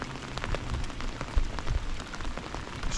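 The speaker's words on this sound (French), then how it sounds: "Ça faisait un moment que j'avais pas pêché comme ça sous la pluie." Heavy rain pours down on a riverbank during fishing, a dense, continuous patter of drops hitting surfaces close by, with occasional heavier splats and no voices.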